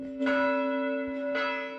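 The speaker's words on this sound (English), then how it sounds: "As church bells rang out in the city to commemorate the 100-year anniversary of the end of World War I" Church bells ringing out across a city to mark the centenary of the end of World War I, two clear resonant strikes with long sustained humming tones, heard alone without voices.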